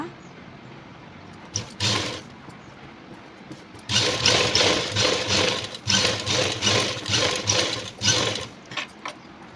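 Sewing machine stitching a work blouse with a normal presser foot, a brief burst then a longer run of rapid rhythmic mechanical clatter in uneven pulses, close and fairly loud, with a voice talking in between.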